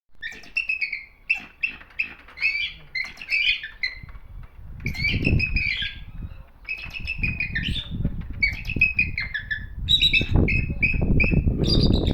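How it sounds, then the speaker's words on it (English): Repeated high, squeaky bird calls in short chirping bursts at a raptor centre, with rustling and shuffling noises building underneath; no one speaks. "It's definitely a bird, another bird."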